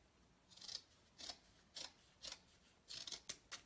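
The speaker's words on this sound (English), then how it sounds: "So I'm just cutting a little piece to make a tail." Scissors snipping a small piece of ribbon for a bow tail on a cotton boll wreath, about eight crisp close cuts in short uneven bursts, alone in a quiet room.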